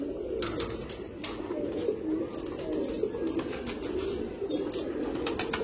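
Pigeons cooing close by, soft repeated throaty coos in an overlapping steady stream, with a few sharp ticks and rustles on top.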